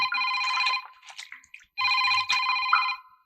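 A telephone ringtone trills in two loud, close bursts with a short broken gap between them, heard in a scene from a Tamil horror film with no voices over it.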